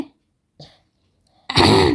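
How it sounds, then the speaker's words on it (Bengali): A person clears their throat and coughs briefly, two short bursts separated by silence, followed by a louder, longer vocal outburst close to the listener. "কাশি লাগছে"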